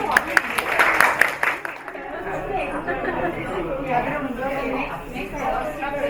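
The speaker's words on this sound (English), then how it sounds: "Give a round of applause" A short burst of clapping greets the tea master and dasik master at a traditional tea and tea-snack event at Bongeunsa temple, fading after a couple of seconds into a room of chatter and talking voices.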